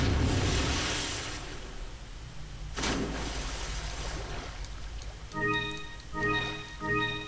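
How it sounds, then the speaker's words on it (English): A grenade blast in the Resident Evil 4 action game, a loud booming explosion that rumbles and decays, followed by a second sharp burst and then tonal chiming game sounds. "Just throw a grenade down there."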